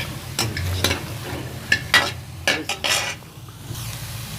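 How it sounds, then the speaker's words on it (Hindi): Garlic and onion go into a kadhai on the stove and are stirred, with scattered scraping clatters and a soft sizzle at moderate volume and no talking. "इसमें डालेंगे लहसुन और प्याज।"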